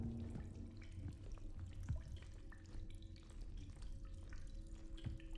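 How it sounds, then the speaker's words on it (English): Water drips and trickles in the Routine video game, with soft irregular droplets and a low running-water background. It is faint and continuous, with no voices. "I'll let the calming sounds of water"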